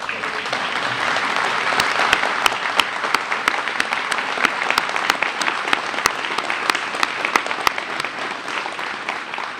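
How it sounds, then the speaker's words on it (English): An audience at a bill-signing event at Scott VFD applauds a military honor guard, with loud, sustained clapping of a sizeable crowd that continues evenly throughout. "Can you all stand up, please, so we can give you a round of applause?"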